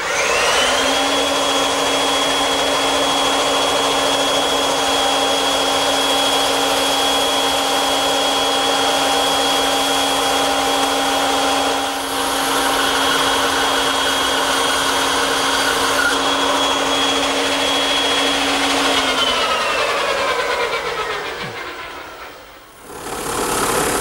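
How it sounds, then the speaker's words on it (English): A bandsaw fitted with a 1/4-inch blade runs loud and steady with a constant motor whine and rushing hum while cutting wood, then powers down and spins to a stop near the end. "I'm going to cut it over here on the bandsaw, which I've equipped with a 1/4-inch wide blade"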